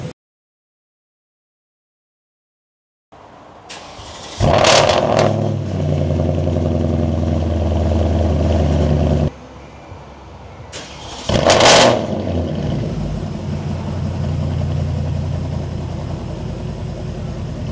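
A straight-piped Porsche Cayenne S 958 starts after a brief silence and idles roughly, then two sharp, loud revs blare out close by, each dropping back to a rumbling, uneven idle.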